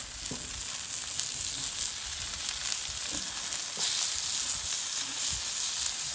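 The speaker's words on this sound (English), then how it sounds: "drop my herbs in. Close, a little bit closer to me. And start adding in some butter." Butter and herbs sizzle in a hot pan for pan-seared halibut, a steady, close frying hiss with faint crackles and no voices.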